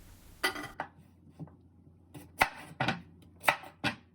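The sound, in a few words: knife cutting sweet potatoes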